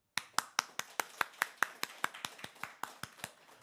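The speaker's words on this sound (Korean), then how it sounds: "자, 우리 모두에게 좀 격려의 박수." Sixteen sharp claps in an even, steady rhythm ring out close and fairly loud in a church, a single pair of hands clapping alone with no voices.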